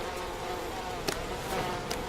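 Insects buzzing, probably bees, in the video game We Happy Few: a steady droning hum runs through the whole stretch, with a few brief louder flutters near the end.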